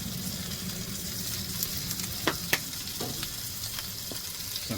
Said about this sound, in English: Now we got our butter and cream all nice and boily.